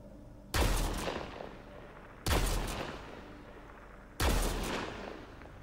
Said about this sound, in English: Few shots.